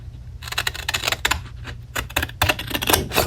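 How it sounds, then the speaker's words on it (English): Scissors snip through paper at a craft table in a quick series of crisp, close clicks and cuts, irregular in rhythm and growing busier toward the end. "Now I'm gonna take my scissors and I'm gonna go like this."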